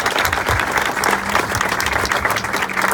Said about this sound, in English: give them a great round of applause for what they do for us here in the city